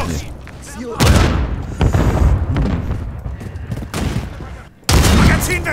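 Thermobaric grenade blasts and gunfire in Modern Warfare 3 multiplayer on a small map, loud booming bursts at intervals with rattling shots between, a voice calling out over the action.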